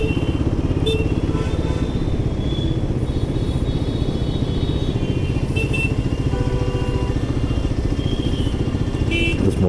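A Royal Enfield Guerrilla 450 motorcycle rides through expressway traffic. Its engine gives a steady, close, low pulsing throb that lasts throughout, with faint traffic noise around it.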